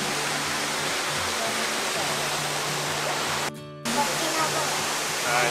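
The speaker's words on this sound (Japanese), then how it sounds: "着きました、千住滝。" Senju Falls in Japan roars steadily and loudly throughout, a dense rushing wash of water with one brief dip in the middle.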